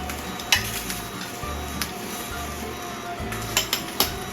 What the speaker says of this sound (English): I'm starting to get a little bit of grilling going on, a little bit of char on it.